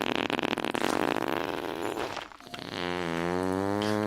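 Fart sound effects triggered during a Stardew Valley livestream: a long raspy, sputtering blast, then a short gap and a second, smoother droning fart tone, loud and up close with no talking.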